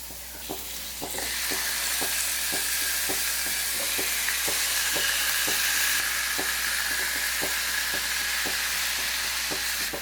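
Marinated chicken pieces sizzle and crackle steadily in hot oil in a pan for a chicken fry, a loud, continuous frying hiss with small rhythmic pops and no talking.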